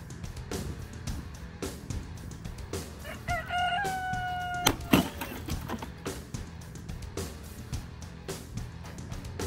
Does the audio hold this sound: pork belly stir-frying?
no